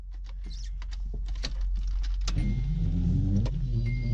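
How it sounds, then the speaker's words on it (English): A Nissan 240SX's starter cranks on a weak battery: faint clicks and rustles at first, then a sluggish, labored churning that starts partway in and drones on steadily to the end. "So let's crank her up, see if the battery's got enough charge."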